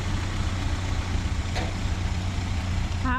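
A 1930 Model A Ford called Mabel drives along the road, its steady low engine drone and road rumble running continuously, with a brief rising tone near the end.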